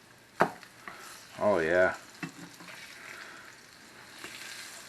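Swai fish fillets frying in butter in a pan, with a sharp clack and sizzle as they are flipped over; someone speaks briefly amid the steady crackle.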